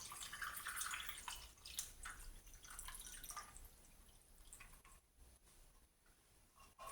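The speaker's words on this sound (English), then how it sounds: "I'm going to pour the Fevergrass lemonade over the ice." Fevergrass lemonade poured over ice, a steady splashing liquid trickle with drips and patter for several seconds, thinning toward the end, with no voices.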